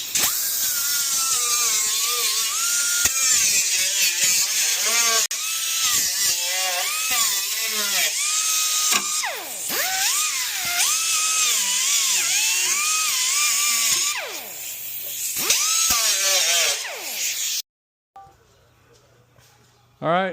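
High-pitched whining power tool deburring freshly cut metal on a Ford 460 big block intake, running loud and close for about seventeen seconds with rising and falling pitch before cutting off abruptly.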